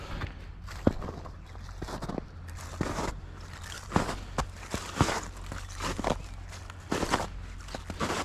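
Irregular crunching footsteps on rough ground while stalking roe deer in the early morning, moderately close, with a low steady hum in the background.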